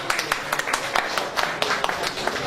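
At a book presentation ceremony honoring ashiq poets, an audience applauds a speaker with dense, steady clapping that fills the room for a couple of seconds.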